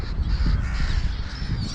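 Crows cawing outdoors near a spot where birds come for nuts and grain, the harsh calls faint and partly buried under steady low wind rumble and background noise.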